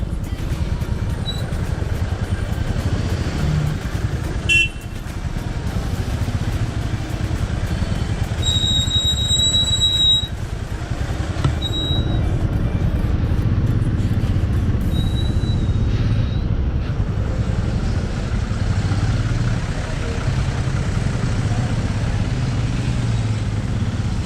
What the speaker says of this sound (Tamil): ஓகே, செம்ம டிராஃபிக் இங்கே டோலில்.